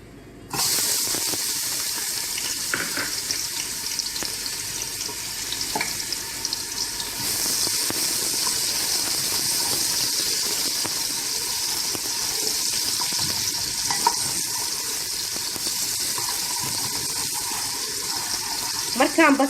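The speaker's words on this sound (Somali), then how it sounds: "bariiska wax yar biyo ah aan ku daraa" Water poured into a pot of Egyptian rice during cooking, a continuous rushing, splashing pour with kitchen clatter and a faint sizzle underneath, lasting throughout.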